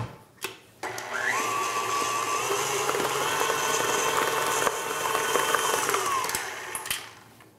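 An electric mixer whirs steadily for several seconds as it blends buttercream frosting made with powdered sugar, starting after a couple of knocks and winding down at the end.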